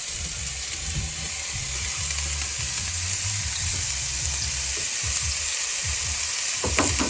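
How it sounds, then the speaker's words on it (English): Onions sizzle in a tablespoon or two of hot oil in a pan for a quick curry, a loud, steady crackling hiss with occasional stirring scrapes, close up and without talk. "Listen to that sizzle."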